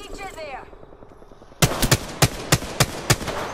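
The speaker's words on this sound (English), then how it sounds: "Careful, they're shooting back." Bursts of gunfire in a shooter video game as enemies return fire: a sudden run of sharp, loud shots in quick succession, preceded by a moment of voices and game ambience.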